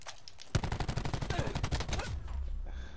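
Automatic gunfire erupts in a fast burst during a hardpoint match in an online shooter game, a rapid string of shots lasting about a second and a half and then trailing off under faint background noise.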